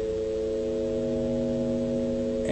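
An FM synthesis tone with carrier and modulator both at audio frequencies, a steady buzzy hum of stacked harmonics that holds evenly throughout, then shifts briefly at the very end, with no talking.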